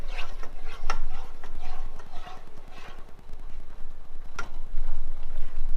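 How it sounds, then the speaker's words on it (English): Sauce of melting grape jelly being stirred in a pot over heat, with soft scraping and clicking strokes repeating steadily at close range against a low background hum. "We're going to go ahead and turn on the heat and give it all a stir."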